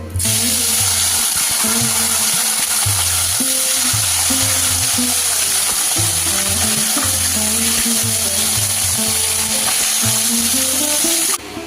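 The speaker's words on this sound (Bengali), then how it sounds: "মাছগুলো ভেজে নেব তার জন্য তেল দিয়ে দিলাম" Loud, steady sizzling of pakal (eel) fish frying in hot oil, a constant crackling hiss over a low droning hum nearby.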